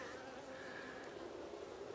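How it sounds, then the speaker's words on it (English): Honey bees festooning at a hive on a raised stand hum in a dense, steady drone, close and continuous throughout. "I appreciate how the bees are festooning,"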